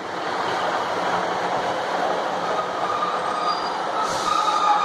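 A Class 153 diesel railcar, unit 153335, pulls into Hoverton and Wroxham station on the Sheringham service, a steady close rumble of wheels on rail with a brief high squeal near the end, no speech.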